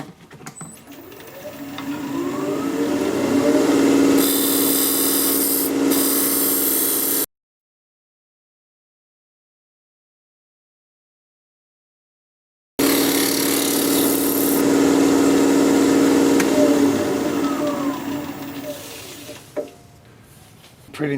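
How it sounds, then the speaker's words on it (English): A scraper working a sycamore vase spinning on a wood lathe: steady, loud whirring scrape with a broad hiss, in two long bursts separated by a few seconds of silence, no talk. "I am going to take a scraper and try and do a little refining here"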